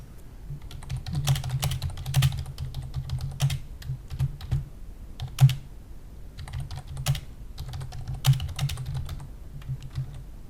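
Steady typing on a computer keyboard while composing an email message, a close run of quick key clicks in uneven bursts with brief pauses, alone without any voices.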